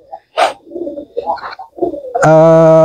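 A pigeon coos in soft, low, throaty phrases close by, followed by a sudden steady, buzzy tone at the end.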